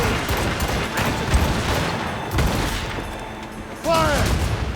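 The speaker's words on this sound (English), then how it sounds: "Cannon! Fire!" Ship cannons fire in a naval battle in Assassin's Creed Rogue, a dense, loud volley of booms and crackling blasts with shouting voices mixed in and a sharp burst near the end.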